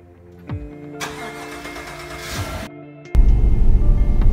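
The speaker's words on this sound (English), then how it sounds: "The truck starts." A 2017 GMC Sierra Denali 1500 pickup truck starting by remote: a click, then a few seconds of whirring hiss before the engine catches with a loud, close burst and settles into a rough, rumbling idle.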